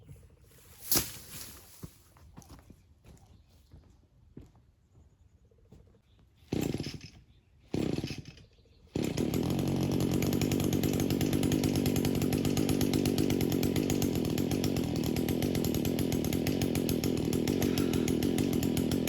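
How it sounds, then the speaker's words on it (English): A chainsaw trimming tree branches, preceded by a few scattered knocks and rustles, then a loud, close, steady engine roar running without a break through the second half. "So I'm gonna trim the tree branches up so I can get back on my stool and put this wire back up."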